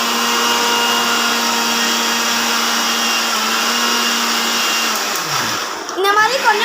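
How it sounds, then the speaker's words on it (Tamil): A mixer grinder runs on sugar with a loud, steady high-pitched whir that holds for several seconds before spinning down, and a voice comes in as the motor stops. "சுகர் அரைக்கிறது"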